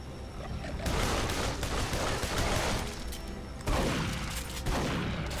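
Shotgun blasts from enemies in the first-person shooter Duke Nukem Forever, heavy repeated booms and clattering gunfire up close, loud and dense with no voices over it.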